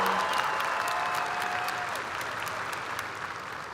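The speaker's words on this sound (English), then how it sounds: "Let's give a big round of applause to Valerie and her family on a job well done" Audience applause at a 2022 high school graduation ceremony, a steady wash of clapping from a large crowd filling the whole stretch and fading slightly toward the end, with no speech over it.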